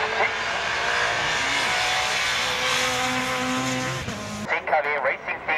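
Audi 50 race car at the Rechberg hillclimb, its engine loud and droning with rising and falling pitch as it climbs, then cutting away to nearer, choppier engine noise, with an announcer talking over it.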